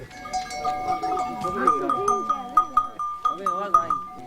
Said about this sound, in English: Locals share the path with flocks of sheep.